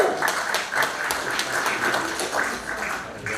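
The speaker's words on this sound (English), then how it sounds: "Give yourselves a big clap." A group of ukulele players clapping for themselves, a close, dense patter of many hands continuing steadily with no voices.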